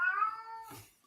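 A cat meows in a single drawn-out, tonal call that rises and wavers before breaking into a rougher, noisier tail, close and clear with no talk over it.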